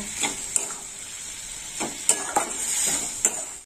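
Milk being stirred and cooked down in a pan for carrot malpua, with repeated scraping strokes of a spoon against the pan over a steady frying sizzle, close and moderately loud, no voices.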